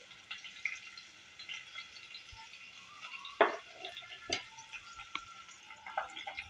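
Onion and green chillies sautéing in a pan for a white kuska, a soft steady frying hiss with a few clinks and scrapes of stirring, close and moderately quiet.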